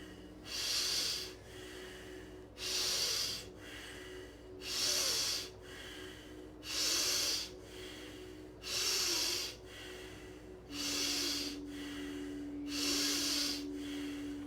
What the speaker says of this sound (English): Use the right hand, block the right nostril,